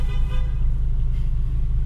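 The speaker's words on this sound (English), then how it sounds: "This guy thinks you're honking at him." A car horn sounds through steady road and engine noise from inside a moving modified Volkswagen Golf, a short toot over the drone of traffic.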